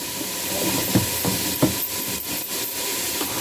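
Tuna salad with dill and garlic powder being mixed in a bowl, a series of soft rubbing and scraping strokes with a few sharper knocks of the utensil, close and steady with no talking.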